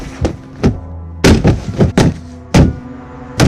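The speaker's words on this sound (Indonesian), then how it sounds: "Ketukan keras, ketukan yang memecahkan keheningan malam." Loud, heavy knocks on a door as a horror-story sound effect, landing in an uneven series of booming thuds with short pauses between bursts and no voices.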